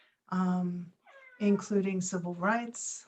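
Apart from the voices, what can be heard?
cat meowing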